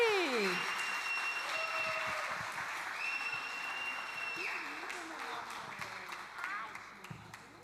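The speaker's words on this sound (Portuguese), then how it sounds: "Vocês podem aplaudir mais forte?" An audience at a church service applauds a children's performance in a steady wash of clapping under tonal ringing and whistling sounds, with voices faintly mixed in.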